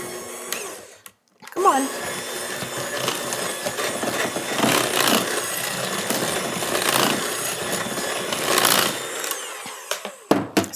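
Electric mixer beating peanut butter sourdough cookie dough, a continuous whirring motor drone that starts after a brief pause and runs close and loud for several seconds before cutting off, with a short spoken remark near the start.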